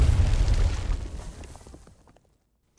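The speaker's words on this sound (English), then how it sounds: "did they literally get smacked by cannon fire immediately?" Cannon fire hitting enemies in the video game Abnormal Spectrum: a heavy, low booming blast that rumbles and slowly fades to near silence, followed by a sharp new onset at the very end.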